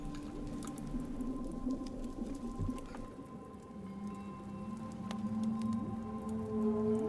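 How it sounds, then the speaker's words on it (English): Eerie, wavering tones glide slowly up and down like whale calls, soft and distant over a faint pattering wash, with no voices. "that's the song of the mermaid"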